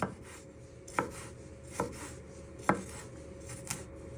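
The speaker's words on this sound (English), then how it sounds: "So you're just slicing them one way and then really fine" A knife finely slices ginger on a chopping board, giving about five crisp, sharp knocks at uneven intervals, close and clear with no talking.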